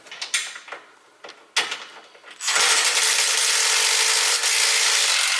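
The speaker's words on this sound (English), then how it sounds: "Alright, now we need to take the bumper off, which is this screw, or bolt and bolt." A power tool whirs loudly and continuously, loosening an Allen head bolt on the front bumper of a Honda Pioneer UTV, preceded by a few short clicks and metallic knocks before the tool starts up.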